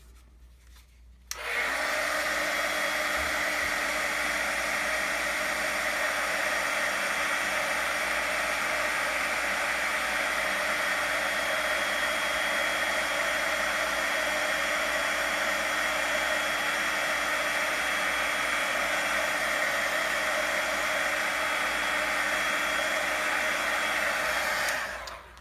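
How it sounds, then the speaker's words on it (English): Loud, steady roar of a heat gun blowing on embossing powder over craft stamps, starting abruptly and holding a constant whooshing hiss for about twenty-four seconds before cutting off, with no talking. "Here comes the"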